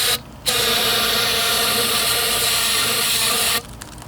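Brake cleaner sprays from an aerosol can into a catch can fitting on a CB7 track build, a loud, steady close-up hiss lasting about three seconds with a brief lead-in and cut-off.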